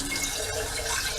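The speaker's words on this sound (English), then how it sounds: "So what we're going to do next is we're going to rinse them" Tap water running steadily over sprouting seeds as they are rinsed, a continuous close splashing hiss without pauses.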